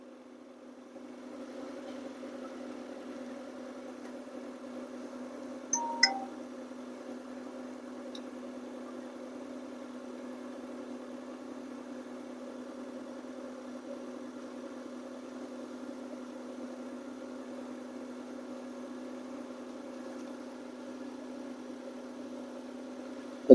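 A car engine, restarted during an O2 sensor fault check, idles with a steady low hum that holds for over twenty seconds, with a few brief clicks near the start.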